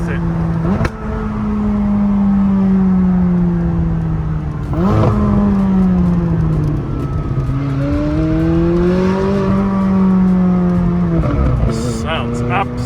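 McLaren 600LT Spider circling a roundabout, its engine droning loud and close with rising and falling revs through the turn, brief gear-change dips and a couple of sharper throttle blips, voices talking over it.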